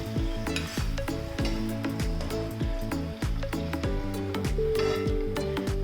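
Banana doughnuts frying in hot oil, a steady close sizzle with bubbling crackle running continuously under faint background music.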